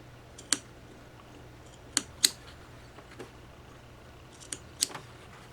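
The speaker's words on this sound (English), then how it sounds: "I'm going to snip it" Scissors snipping sewn face mask fabric up to the stitching line, a handful of sharp, isolated clicks spaced irregularly over a quiet room hum.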